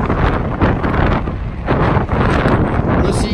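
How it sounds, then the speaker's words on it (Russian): Strong wind buffets the microphone outdoors on a street in Saudi Arabia, loud rumbling gusts that surge and ease in continuous waves. "Извиняюсь за то, что дует такой сильный ветер."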